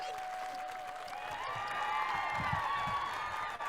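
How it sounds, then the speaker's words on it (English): Audience applause at the finals of a startup idea competition, a steady, moderately distant wash of clapping from a crowd with a few faint cheers, lasting several seconds. "And one final applause"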